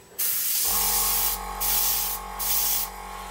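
A close airbrush hisses in steady bursts of paint spray on a Su-27UB model, the airflow rising and dipping in pulses over a constant low motor hum.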